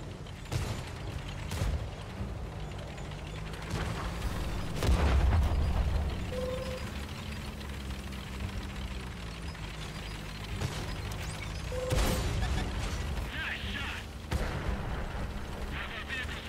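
Tank taking incoming fire from several directions in a World of Tanks console battle, with scattered booming impacts and bursts at intervals over a steady engine rumble, moderately loud.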